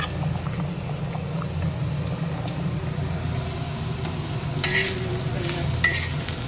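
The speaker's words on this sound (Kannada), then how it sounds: "ಫ್ರೈ ಆಗ್ತಾ ಇದೆ." Drumstick leaves fry in a pan for bassaru with a close, continuous sizzle, a few light clinks of stirring, and no speech.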